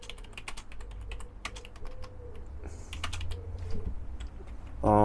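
Rapid, uneven keystrokes on a computer keyboard rattle close by as a load-board job post is typed, ending with a brief louder clatter.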